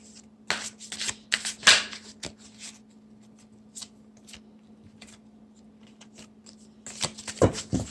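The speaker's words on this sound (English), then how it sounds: "We got some cards flipping out everywhere." Tarot cards shuffled by hand close up, crisp riffling bursts and soft slaps in irregular clusters with quiet gaps between, under a faint steady hum.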